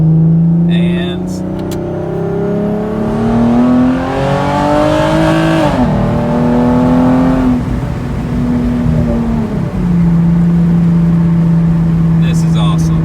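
A Hyundai Genesis Coupe runs loud and close from inside, its engine note climbing steadily under acceleration, dropping on a shift, then holding a steady drone; a brief rush of wind noise passes midway.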